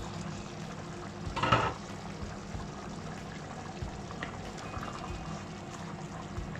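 A pot of cooked zucchini and rice is tipped out in one brief liquid pour and splash, close and moderately loud, followed by a faint steady simmering hiss.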